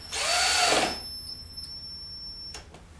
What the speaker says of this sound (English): slowly with your battery drill until it nips up